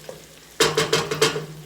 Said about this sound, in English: I'm going to add onions, cooking up, and they're translucent